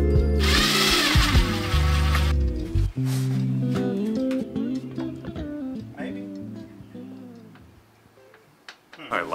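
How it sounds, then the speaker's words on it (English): A power drill drives pocket hole screws into a wooden bed frame being built inside a van: a loud, whining motor burst up front, then shorter, fainter drill runs and clicks, with voices intermittently present. "I'm gonna use pocket hole screws to initially secure it,"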